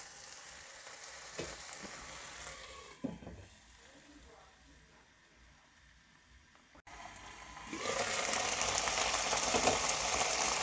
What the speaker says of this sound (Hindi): बिल्कुल हल्की आंच पर 10 से 12 मिनट के लिए चिकन को पकाएंगे